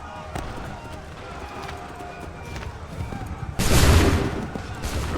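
A volley of musket gunfire in Assassin's Creed 3, preceded by running footsteps and hoofbeats, then a loud sudden burst of massed shots with voices shouting orders around it.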